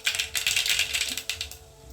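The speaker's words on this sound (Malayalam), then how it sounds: "കടുക് പൊട്ടി" Mustard seeds popping in hot coconut oil, a quick irregular patter of small crackles and pops close up, quieter and thinning out toward the end.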